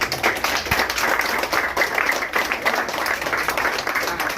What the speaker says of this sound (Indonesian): kita beri aplaus lah mereka semua